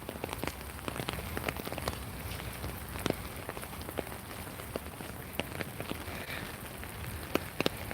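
Steady rain falls outdoors, a dense patter of drops striking surfaces, continuous and fairly soft, with no voices heard.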